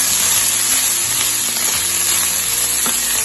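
Slices of smoked ham browning in a pan give off a steady, dense sizzle and crackle with faint stirring scrapes beneath, close and continuous, with no voices.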